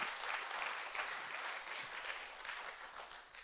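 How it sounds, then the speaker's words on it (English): A crowd applauds steadily, a dense patter of clapping that gradually thins toward the end. "Can you give him appropriate applause?"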